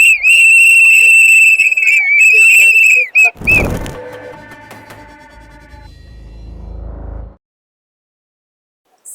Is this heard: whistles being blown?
yes